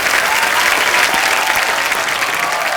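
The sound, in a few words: studio audience applause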